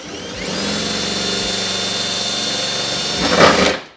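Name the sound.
power drill drilling through plastic tab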